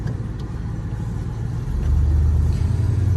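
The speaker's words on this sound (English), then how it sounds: "And then I'll just take it for a quick drive here around the block." A 1996 Ford F150 pickup with a replaced exhaust pulls away for a short drive around the block. Its low engine rumble swells steadily as it accelerates, close and continuous, with no voices.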